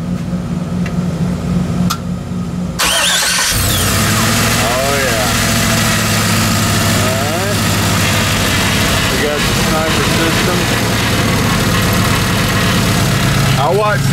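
An LS-swapped Humvee engine cranks over and fires up, then settles into a loud, steady, low idle. Someone speaks briefly before the start and voices are heard over the running engine.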